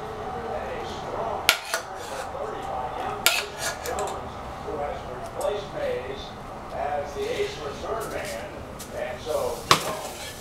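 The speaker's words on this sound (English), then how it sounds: "And now, I put my scallops, shrimp, and conch on top." Seafood pieces of scallops, shrimp and conch go into a dish with sharp clinks and knocks of cookware and utensils, scattered irregularly through steady close talk.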